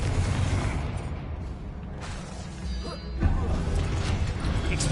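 A Confringo blasting spell bursts in a wizard duelling video game, a sharp crashing impact in a dense, noisy mix, with a louder hit about two-thirds through amid continuous game effects and voice activity.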